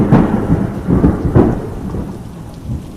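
Heavy rain pours steadily while low thunder rumbles roll through in a few swelling pulses, with no voices, from a Hindi cartoon.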